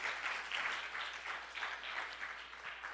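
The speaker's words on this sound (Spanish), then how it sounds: "Denle un aplauso a nuestro Dios" A church congregation applauds at the close of a service, a soft, somewhat distant and steady patter of many hands clapping with faint room ambience beneath.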